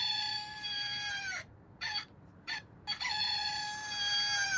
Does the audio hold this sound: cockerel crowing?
yes